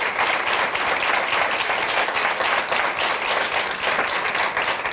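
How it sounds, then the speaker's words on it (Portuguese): A studio audience claps steadily and densely for a proctology surgeon on a television show, the applause staying even and full for the whole stretch. "cirurgião proctologista Luís Fontes, para quem peço uma salva de palmas."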